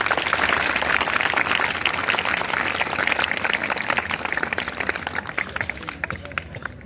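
An audience at a school event gives dense, sustained applause to welcome a guest, loud and continuous at first and thinning toward the end.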